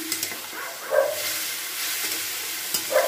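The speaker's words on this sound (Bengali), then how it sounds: "দিয়ে ভালো করে একটু নাড়াচাড়া করে নিচ্ছি" A paste of ground mustard, green chilli and poppy seed being stirred in a pan with potatoes, producing a quiet sizzle with intermittent scraping strokes and a couple of faint distant dog barks, no talk.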